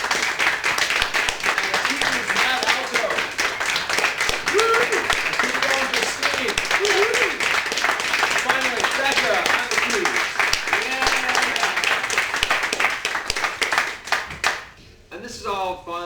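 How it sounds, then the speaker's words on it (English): A live improv audience claps loudly and steadily for the performer Travis for over a dozen seconds, with a voice talking over the applause before it tapers off near the end. "So give a big round of applause for Travis."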